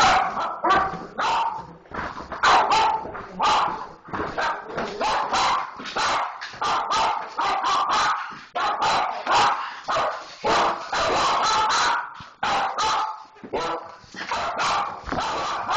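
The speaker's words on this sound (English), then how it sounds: "well, the dog." A dog barks repeatedly at close range in quick, irregular bursts, with some yips and whimpers mixed in and voices talking nearby.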